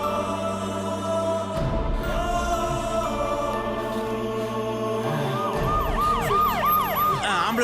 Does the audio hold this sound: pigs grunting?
no